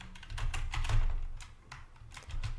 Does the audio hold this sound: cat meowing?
no